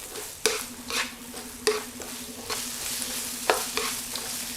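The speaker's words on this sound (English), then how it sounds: "Stir fry." Onion and garlic stir-frying in a hot pan with oil: a steady close sizzle punctuated by repeated scraping strokes of a utensil against the pan, with a faint hum running underneath.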